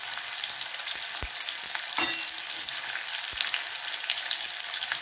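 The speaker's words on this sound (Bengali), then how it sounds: "তেল গরম হয়ে গেছে, এর মধ্যে দিয়ে দিচ্ছি দুটো সরু সরু করে" Finely chopped onions frying in hot oil, a steady dense sizzle with a few soft knocks and stirring scrapes, close and continuous without voices.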